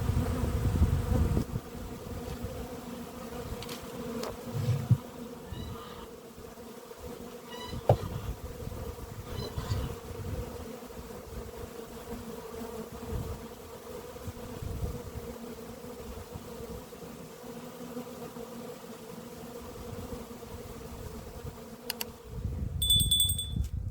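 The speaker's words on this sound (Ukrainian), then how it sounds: "на рамку, яку я залишив, злетілися бджоли" A steady, low buzz of many honey bees droning close by around a half frame of open honey near a hive, with occasional nearer buzzing passes and faint handling noises.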